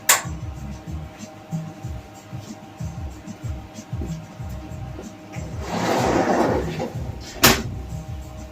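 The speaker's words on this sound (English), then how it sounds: "Just close the door to keep the draft out." A door is pushed shut in a home workshop where a car chassis is being welded, with a rising rush of movement followed by one short, sharp knock of it closing.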